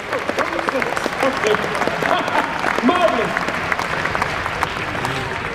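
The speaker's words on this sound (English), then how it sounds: "Round of applause, ladies and gentlemen!" Audience applause at a live stage show, a steady wash of clapping from a crowd throughout, with a presenter's voice calling out over it.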